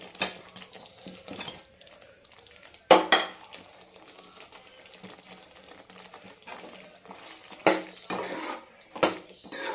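A utensil stirs paneer pieces into matar paneer gravy in a metal pan, making close scraping and clinking with a few louder knocks against the pan rim. No voices.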